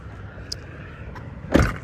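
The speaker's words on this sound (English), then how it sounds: "And the door thunk is nice, so all in all, a good SUV." Door of a 2020 Toyota RAV4 SUV shutting, heard as a single solid, low thunk near the end, with a couple of faint clicks before it over quiet interior hum.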